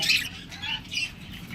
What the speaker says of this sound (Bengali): বাজিকার পাখি রয়েছে খুবই চমৎকার